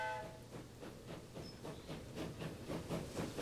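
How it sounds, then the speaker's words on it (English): A train arrives in the Transport Fever railway game, with a quiet, rhythmic clatter of wheels over rail joints and a faint hiss, the repeating beats coming at a steady pace with no voices. "And here's our first train,"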